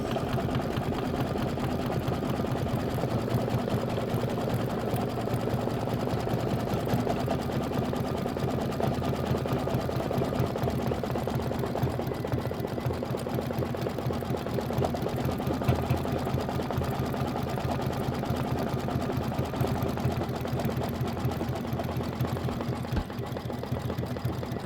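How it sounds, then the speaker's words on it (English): An embroidery machine stitches out a pumpkin block for a pillow, its steady, rapid needle clatter and motor hum running continuously and loud for the whole stretch with no talking. "this is 3 minutes of stitching. We are 9 minutes into our 13-minute stitch out."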